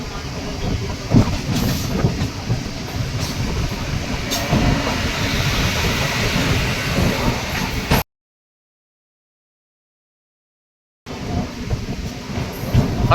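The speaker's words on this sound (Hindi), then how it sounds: "प्लेटफॉर्म नंबर 2 पर अमौसी स्टेशन की उत्सर्ग एक्सप्रेस यहाँ पर खड़ी हुई है" The Utsarg Express, a train running from Farrukhabad to Chhapra, stands at platform 2 of Amausi station near Lucknow, and a steady loud rumble of rail noise fills the scene, broken by a few seconds of silence before resuming.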